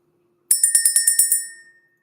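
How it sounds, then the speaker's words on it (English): A small bell rung during a spiritual session: about eight quick bright rings in an even rhythm, loud and close, fading out into a ringing decay, with no voices. "Let's ring the bell."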